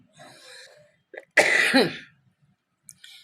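A single harsh cough from someone with a sore throat bursts out loudly, preceded by a few faint quieter sounds, then quiet.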